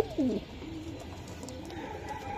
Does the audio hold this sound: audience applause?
no